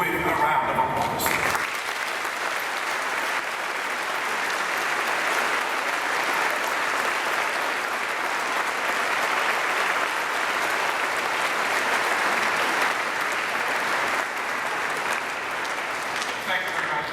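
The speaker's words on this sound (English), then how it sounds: "please join me in celebrating the dedication of Simon Skjodt Assembly Hall with a round of applause" Sustained audience applause fills a large assembly hall at a dedication ceremony, a dense, steady roar of many hands clapping continuously for well over fifteen seconds after a brief burst of other sound at the start.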